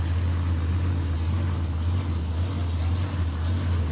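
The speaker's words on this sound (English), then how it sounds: "Hear that blower hunting along." A loud, steady supercharged Holden Torana race car engine drone with a strong low rumble and a whining blower overtone, running continuously at close range without pause.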